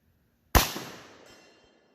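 A single sharp report from a .308 rifle firing subsonic ammunition at a steel target about 200 yards away, a loud sudden crack followed by a decaying tail lasting about a second, heard alone in quiet surroundings.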